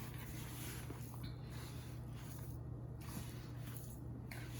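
Hands kneading and squishing wet Maseca corn tortilla dough in a bowl, with soft, faint repeated squelching pulses over a steady low background hum.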